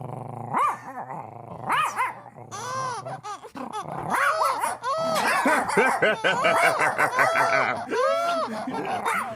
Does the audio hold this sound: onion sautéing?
no